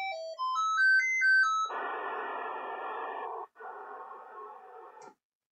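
Electronic chip-style tones from an Aldi Commodore 64 computer step upward in a quick melodic run, followed by a sustained buzzy synthesized drone that briefly cuts out, then resumes before stopping.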